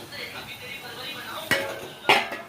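A metal lid set down on a cooking pan while dried bombil fish curry with onion, tomato and spices cooks, two sharp clanks over a quiet kitchen background.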